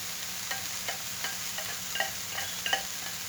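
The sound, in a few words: breaking up and stirring rice in a frying pan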